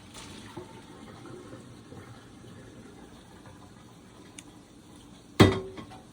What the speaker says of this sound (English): pour these potatoes right into my colander